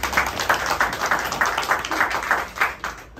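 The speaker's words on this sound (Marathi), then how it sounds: "टाळ्या जोरात होऊ दे" Audience clapping in a steady rhythmic beat during a Marathi song performance, about ten even claps spaced roughly a third of a second apart, fairly close and moderately loud.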